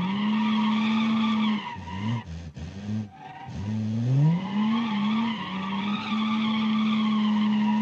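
A cheap 1990s front-wheel-drive minivan spins reverse donuts in the BeamNG driving game, its tires squealing in a long sustained skid that breaks up briefly mid-spin before the screech resumes over a steady engine drone.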